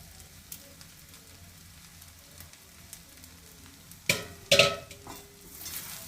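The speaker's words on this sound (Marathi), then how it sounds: "छान हा मिक्स करून घ्यायचा आपण सर्व" Sabudana khichdi with crushed peanuts being stirred in a pan, quiet frying at first, then a few loud scraping, clattering strokes of the spoon against the pan near the end.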